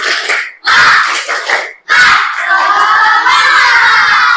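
Fifth-grade schoolchildren in a classroom clap and shout a rhythmic chant in unison, loud and close, with short bursts of clapping and shouting broken by brief pauses before a sustained group cheer.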